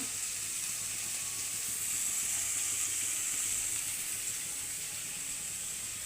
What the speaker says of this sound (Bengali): এক এক করে সব আনাজ ভাজা হচ্ছে